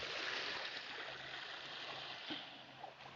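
Gentle waves lap softly on a calm lake as a faint, steady wash of water with a couple of small splashes near the end.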